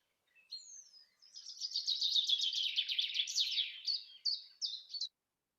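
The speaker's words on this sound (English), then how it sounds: "So we can listen to a bird song." Elaborate songbird song lasting about five seconds, a long run of bright, rapid twittering trills and warbles followed by a few short separate chirps, clear and close with no other sound.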